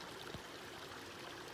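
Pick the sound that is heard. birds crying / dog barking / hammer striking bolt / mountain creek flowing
mountain creek flowing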